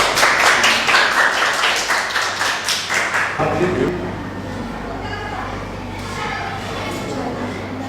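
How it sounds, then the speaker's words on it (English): A classroom claps for a student in brief rhythmic bursts of handclaps for about three seconds, then stops, leaving quieter room noise and some voices. "Clap for her."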